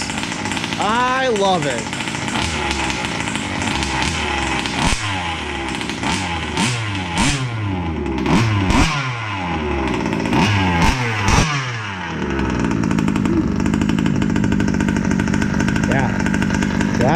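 A two-stroke engine sputters and revs in uneven bursts, loud and close, with a person speaking briefly over it.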